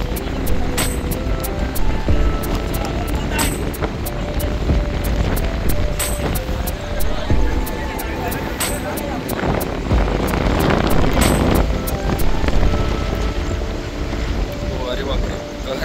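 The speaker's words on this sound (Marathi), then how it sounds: "लाटांचा आवाज आणि तुम्हाला सुद्धा या व्हिडिओमध्ये ऐकायला येत असेल की इथे वारा किती आहे." Ocean waves and strong wind on a beach at Devgad, a dense continuous roar with heavy wind buffeting on the microphone and faint clicking throughout.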